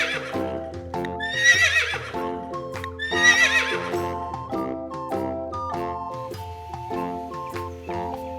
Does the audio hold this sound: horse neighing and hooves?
yes